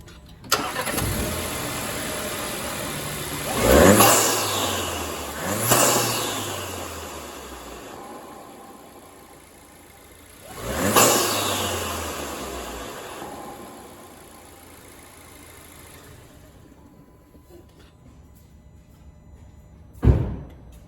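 A 2022 Audi A5 2.0 fitted with a new intake idles and then revs three times, each rise swelling and falling back to a steady idle. A sharp thump comes near the end.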